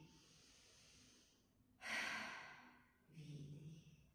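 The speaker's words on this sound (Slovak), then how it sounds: "Ešte raz hlboký nádych a výdych." During a prenatal yoga session, a single close, breathy deep inhale is followed by a slower, audible exhale, calm and unhurried with soft room hiss around it.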